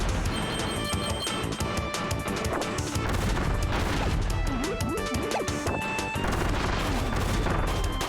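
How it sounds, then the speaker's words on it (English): Loud cartoonish blasts and smashing crashes from bombs exploding in Kirby's Return to Dreamland, repeated in a dense run over busy game music, with no speech. "Blow up the bombs."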